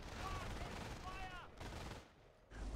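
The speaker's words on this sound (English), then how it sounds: "there are still 2 MG guys firing away at these rifles" Machine-gun fire from two MG teams in a tactical war strategy game, a dense continuous clatter of rapid shots that drops out briefly near the middle and again toward the end before resuming, mixed with distant battle noise.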